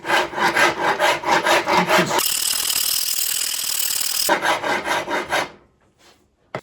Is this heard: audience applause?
no